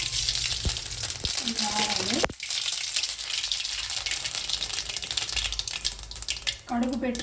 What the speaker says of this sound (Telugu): ఇదే ఆయిల్లో కొంచెం జీలకర్ర వేసిన కదా, కొన్ని ఆవాలు